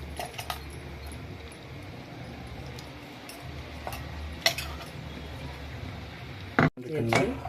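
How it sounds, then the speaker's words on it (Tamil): A spoon scrapes and clinks against a pot while hotel-style tiffin sambar is stirred, with scattered metallic taps over a low kitchen hum and a louder clatter near the end. "அடுத்து அப்புறம் நல்லா கிண்டிக்கணும்"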